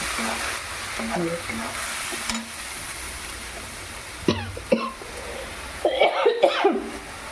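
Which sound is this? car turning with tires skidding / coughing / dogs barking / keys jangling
coughing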